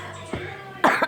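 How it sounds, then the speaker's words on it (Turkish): A young child gives a couple of short, sharp coughs, close to the mic, with a brief throaty sound just before them. "Öksürmeye bak ya."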